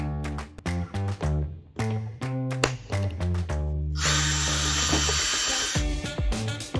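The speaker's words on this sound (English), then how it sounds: "used a center punch before drilling" Short bursts of a power drill revving and stopping, then a longer continuous drilling run through a door panel, close and loud.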